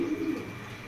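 Racer pigeons, young birds for sale, coo softly in a steady murmur under a continuous background hum.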